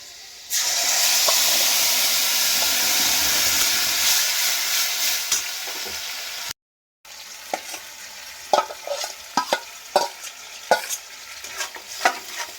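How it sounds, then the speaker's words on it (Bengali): Yardlong bean paste dropped into a pan of fried garlic, a steady loud sizzle and hiss that drops out briefly, then gives way to scattered clinks and scrapes of stirring. "তো এবার আমি দিয়ে দিচ্ছি বরবটি বাটাটা, কেননা রসুনটা কিন্তু লাল লাল করে ভেজে নেওয়া হয়ে গেছে।"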